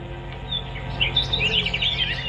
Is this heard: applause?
no